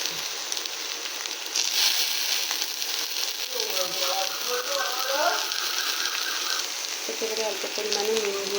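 Chopped tomatoes fry in a pan, giving a steady close sizzle and crackle that runs throughout, with brief stirring scrapes partway and a voice talking over it.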